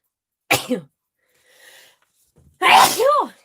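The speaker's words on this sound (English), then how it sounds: "I'm going to sneeze." Two sharp sneezes, a couple of seconds apart, close to the mic; the second is louder and longer, with a faint murmur between them.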